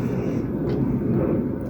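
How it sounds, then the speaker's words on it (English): Airplanes fly overhead, giving a steady, moderately loud low rumble of aircraft engines that holds throughout the brief stretch with no voices. "stupid planes"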